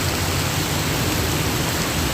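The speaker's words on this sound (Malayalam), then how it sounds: "നല്ല മഴ പറഞ്ഞാൽ പെരും മഴ" Heavy rain pours steadily during a downpour on the NH66 highway at Palachiramad, a dense, unbroken hiss of close, loud rainfall with no voices or other sounds standing out.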